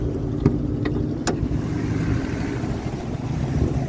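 A 2020 Chevrolet Silverado pickup's 5.3-liter V8 idles smoothly and quietly in a low, even hum, with a few faint clicks early on and no talking.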